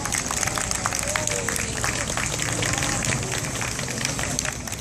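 A lecture audience in a hall claps steadily, a dense even wash of applause throughout with faint voices underneath.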